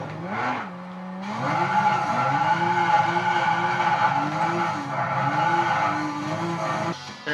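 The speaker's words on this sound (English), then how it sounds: "Drift fest, man." Tires squeal steadily as a car drifts sideways in Gran Turismo 6, the engine's pitch wavering beneath a continuous loud screech that runs nearly the whole time with only a brief dip near the start.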